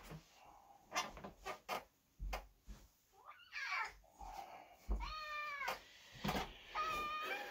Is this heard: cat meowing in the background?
yes